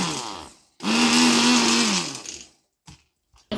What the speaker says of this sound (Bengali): আর ব্লাইন্ডার দিয়ে একটা বাড়ি মারবো